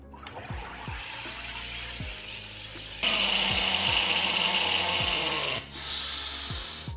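A sparkling water maker carbonates water after its lever is pulled, giving a loud, sustained hissing rush that starts abruptly partway through, briefly dips, then continues, over softer mechanical sounds beforehand.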